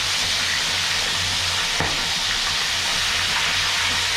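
Tilapia frying in hot oil in a pan, a loud steady sizzle and crackle filling the whole clip, close up with no talking.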